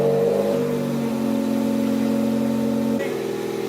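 A Ford Focus ST engine with an MBRP catless downpipe fires up with a throaty exhaust rumble, shifts its pitch briefly, then settles into a loud, steady drone up close.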